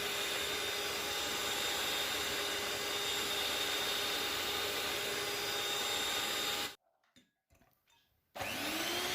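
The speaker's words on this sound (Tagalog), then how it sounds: "Paghaluin ng mga sangkap sa pamamagitan ng paggamit ng electric beater." An electric beater whirs steadily through lemon cake batter for about seven seconds, a loud continuous motor drone, then cuts out briefly before starting up again near the end.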